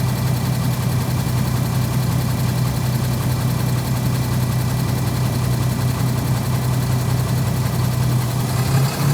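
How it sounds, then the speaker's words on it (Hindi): A truck's diesel engine runs steadily as its DPF regeneration begins, a constant, close, low-pitched rumble and hum with no break in the sound. "इंजन की आवाज़ भी बदल गई।"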